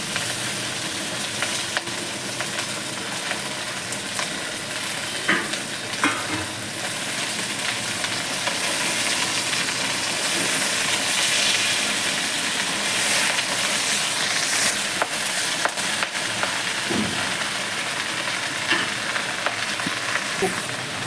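Chopped eggplant and bottle gourd greens sizzle steadily in a hot pan for a lauer shak chorchori, with a continuous frying hiss and occasional scraping stirs, close and alone with no talk.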